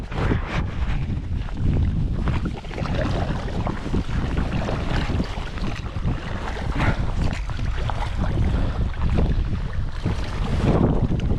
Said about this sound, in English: I better put this in because we're getting side on by the waves.